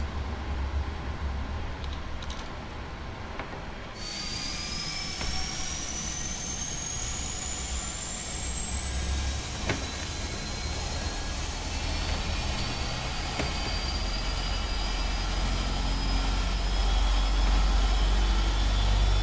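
A Boeing 777F jet engine starts up in a flight simulator game, its whine rising steadily in pitch over a constant roar, growing louder toward the end.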